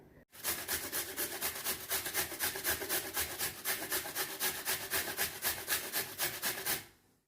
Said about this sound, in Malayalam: ഞാനിതിവിടെ ഇതുപോലൊരു ഗ്രേറ്ററിൽ വെച്ച് ഗ്രേറ്റ് ചെയ്തെടുക്കുകയാണ് ചെയ്യുന്നത്.